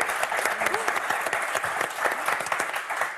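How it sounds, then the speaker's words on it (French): Studio audience applauding four contestants on a Christmas tournament episode of the French game show Motus, steady clapping throughout with a few voices mixed in. "Allez, on vous applaudit tous les quatre."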